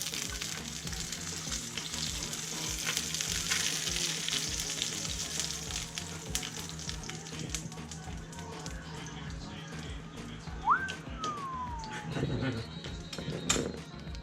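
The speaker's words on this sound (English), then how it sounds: "All right, we're seared on every side." Fish sears in a hot pan with a constant loud crackling sizzle that runs throughout, with a few faint clicks and squeaks near the end.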